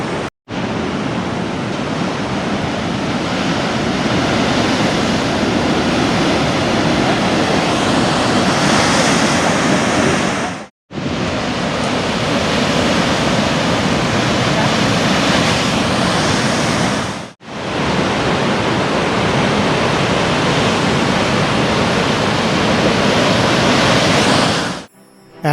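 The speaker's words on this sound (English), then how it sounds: "Take a look at these waves, unbelievable." Big ocean waves crash and roar near Point Bonita lighthouse under a surf advisory ahead of a storm; a loud, continuous rush of surf with wind buffeting the microphone, broken by two brief cuts.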